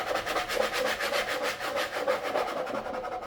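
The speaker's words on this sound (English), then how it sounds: "Then I'm going to use my scraper." A scraper rasps back and forth over a surface while a Dollar Tree Easter basket is being prepped, heard as steady, close, rhythmic rubbing strokes, about three per second, with no talk.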